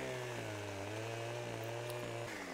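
Chainsaw in the farming game Landwirtschafts-Simulator 15 cutting a tree, a steady, loud droning engine whine held for the whole stretch, with a slight pitch shift near the end.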